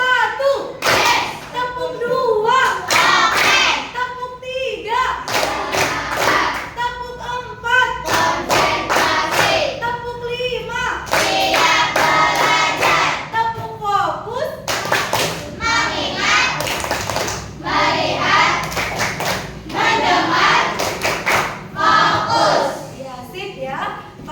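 A group of schoolchildren in a classroom claps hands in rhythmic bursts of a patterned clapping game, with children's voices chanting and talking between and over the claps.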